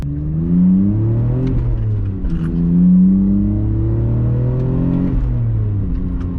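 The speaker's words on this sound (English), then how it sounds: "It's not the loudest car. It just has a little bit of drone sometimes" A steady, low exhaust drone heard from inside a BMW E46 with its muffler removed, rising and falling gently with engine speed, with a constant rumble underneath and no talking.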